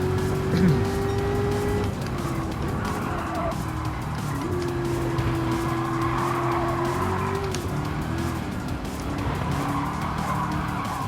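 Race car engine in the game Gran Turismo 7 holding a steady droning pitch that dips and rises, with long tire squeals and skidding across the whole stretch.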